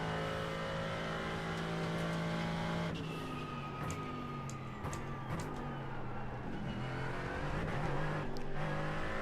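An SUV engine revs hard in a racing video game, a steady droning roar with shifting pitch as it accelerates and changes gear, loud and continuous with a few sharp clicks over it.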